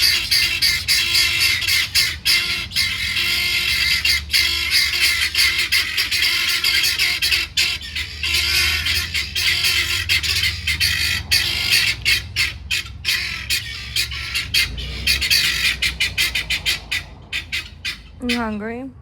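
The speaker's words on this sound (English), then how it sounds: "that's the sound of guinea fowl. If they think there's a predator." A flock of guinea fowl keeps up loud, nearby alarm calls, a long stretch of harsh, repetitive, rattling squawks that grow choppier toward the end, with a few voices in the background.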